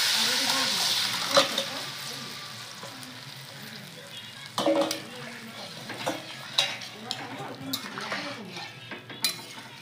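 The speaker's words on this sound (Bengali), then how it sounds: "এখন আমি দিয়ে দিচ্ছি ঝোল তরকারিতে" Broth poured into a frying katla fish curry with green banana makes a loud sizzling hiss, followed by stirring, bubbling and clinks of a spoon against the pan.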